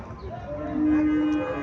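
A single Haryana-breed cow moos close by, a low, drawn-out call that swells in the middle and trails off.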